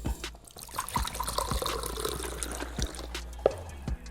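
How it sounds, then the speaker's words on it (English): Coconut water is poured out of a freshly cut coconut, a quiet trickle and dribble with soft splashes and a few knocks, close and faint with no talking. "See how much water of this coconut?"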